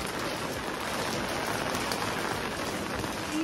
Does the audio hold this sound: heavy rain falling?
yes